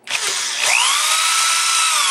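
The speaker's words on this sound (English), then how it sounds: "I'm going to go ahead and drill it off." A power drill bores into a lock cylinder in a locksmith's lock-drilling exercise, a loud, steady whine that rises in pitch as the bit bites, running continuously close to the mic.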